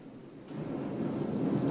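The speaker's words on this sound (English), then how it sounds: "The river." Rising river water rushing steadily, a broad continuous roar that swells louder over the clip with no voices.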